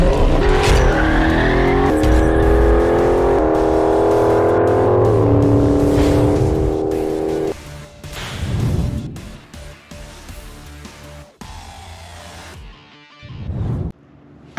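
A Jeep Commander's engine runs loudly while warming up on a cold day, a steady close drone that drops off after several seconds into quieter handling noises and knocks.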